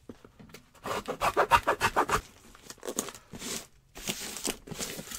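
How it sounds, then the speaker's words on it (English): A custom cardboard shipping box for a large framed picture or mirror has its excess trimmed off: a run of rhythmic rasping, scraping strokes up close, then a few louder rubbing scrapes after a pause. "We're going to cut off the excess just like we did on the other side."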